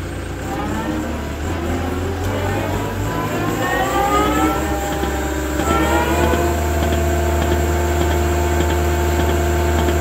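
A large trenching saw machine runs and spins up, a loud steady engine drone with rising whining tones as the blade speeds up, close and continuous with no talking.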